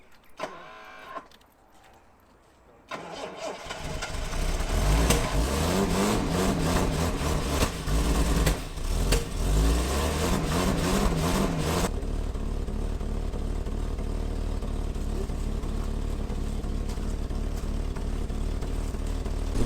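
A 1978 Jaguar XJ6 Series 2 barn find turns over after a quiet start, then its engine catches and runs loud and rough, settling into a steady warm-up idle close by.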